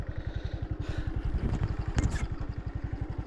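A small motorcycle idles and putters at a Thailand rubber farm, its close, steady low engine thumping in a fast even rhythm throughout, with a few light clattering knocks over it.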